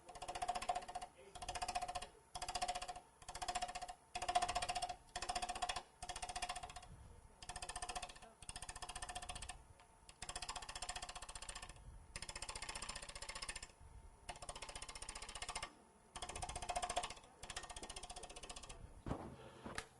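A wood lathe takes a light finishing cut on multi-center, three-sided turned napkin rings, with repeated rattling bursts of cutting broken by short pauses and a voice heard at times.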